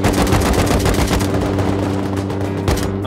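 Dense automatic gunfire in the survival game Rust, with rapid overlapping shots hammering away loud and close the whole time, a busy firefight with no pause.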